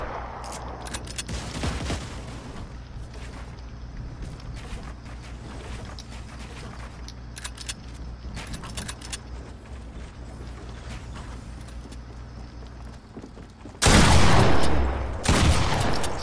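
Rapid bursts of gunfire in the video game Fortnite, played in Creative Mode, crackling over a dense mechanical clatter, with a louder, closer volley near the end.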